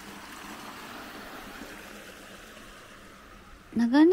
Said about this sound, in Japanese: 流れる水の音も心地いい。